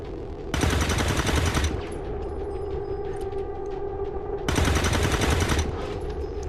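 Two loud, close bursts of automatic gunfire in the sci-fi tactics game XCOM 2, each lasting about a second, separated by a few seconds of quieter rumbling game ambience.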